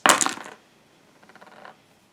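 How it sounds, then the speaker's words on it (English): Five dice rolled into a dice tray during a General d'Armee 2 tabletop wargame, a loud rattling clatter of dice tumbling for half a second, then a softer scatter of clicks as they settle. "I'll be making a roll in just a second in Richard's famous dice tray"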